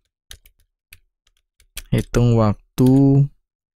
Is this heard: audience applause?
no